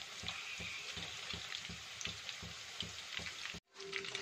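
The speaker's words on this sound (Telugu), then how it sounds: "So fry అవనిద్దాం." Chicken pakoda pieces, cashew-coated, fry steadily in hot oil with a dense, even crackle and hiss, close and continuous, with a brief drop-out near the end before the sizzling resumes.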